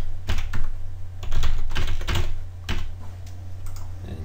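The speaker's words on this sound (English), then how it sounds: "I have to type in my username and a new password." Rapid, irregular keystrokes on a computer keyboard as a username and password are entered, clattering in close bursts across the whole stretch with brief pauses between runs.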